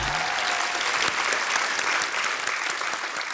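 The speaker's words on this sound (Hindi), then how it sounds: "आपकी जोरदार तालियों के बीच स्वागत करना चाहूंगा मिस्टर रणदीप हुड्डा का" A studio audience on a TV comedy show bursts into loud, dense applause as actor Randeep Hooda makes his entrance. The clapping is sustained and close, and a brief tone fades out at the start.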